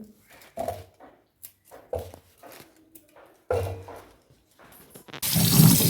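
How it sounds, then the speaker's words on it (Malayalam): Chinese potatoes (koorkka) being washed in water, with intermittent splashing and rubbing bursts that swell into a louder, steady rush of water near the end, close by and with no talking. "ഇതൊന്ന് കഴുകി എടുക്കണം. കഴുകിയാലില്ലേ ഇതിൻ്റെ കുറേ മണ്ണെല്ലാം അങ്ങ് പോകും."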